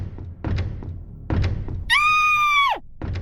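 Heavy, hollow thuds pound on a door in loud, repeated bursts, broken by a shrill, wavering cry before the knocking resumes.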